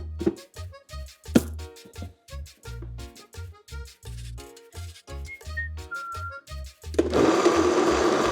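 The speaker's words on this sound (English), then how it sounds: "And we are going to blend it." Kitchen blender switching on near the end to purée an aporreadillo sauce seasoned with cumin, Michoacán style, preceded by a run of soft rhythmic taps and knocks as ingredients go in, then a loud steady whirring roar.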